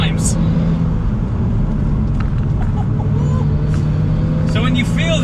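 Audi A1 Quattro being driven, a loud continuous engine and road rumble from inside the car under steady talking.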